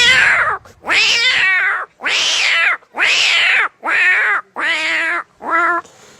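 A voice imitates fighting cats with seven loud, harsh, strained yowls in a steady series, close and alone.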